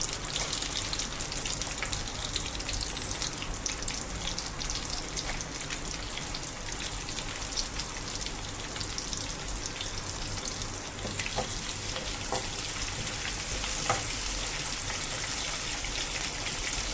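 Oil sizzles and crackles steadily as chopped green chilies fry in a pan for tomato rice, a continuous hiss with small pops throughout.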